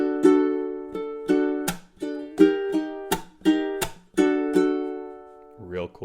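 Slow strumming on a ukulele playing measures 13 into 14 of a spooky strumming etude, a series of separate ringing chord strums with short pauses between them, close and clear, with a brief voice entering at the very end.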